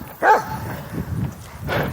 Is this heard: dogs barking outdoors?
yes